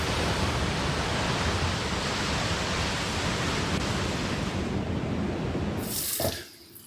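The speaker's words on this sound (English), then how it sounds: "Now we're gonna rinse off." Water runs steadily from a tap, rinsing shaving lather off after a shave with a Rex Supply Co. Page razor, a broad constant rush that cuts off abruptly near the end.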